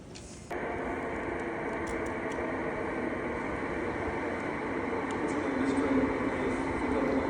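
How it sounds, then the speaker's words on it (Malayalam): A train arriving at a platform in a London station sets off a loud, steady rumble and roar that begins suddenly and holds, swelling slightly toward the end. "അപ്പോൾ ഈ വരുന്നതല്ല ഞങ്ങളുടെ ട്രെയിൻ, ഇതിന് കഴിഞ്ഞിട്ട് അടുത്ത വരുന്നതാണ് ഞങ്ങളുടെ ട്രെയിൻ."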